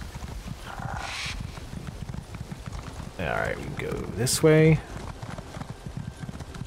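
Fast horse galloping in a video game, rapid rhythmic hoofbeats pounding steadily in the background while someone talks over them and a brief whinny-like sound cuts in.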